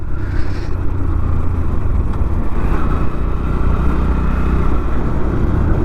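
A motorcycle leaning through the bends of a mountain ghat road in Maharashtra on a Mumbai to Satara ride, its engine a steady mid-pitched drone under loud continuous wind rush, no talking.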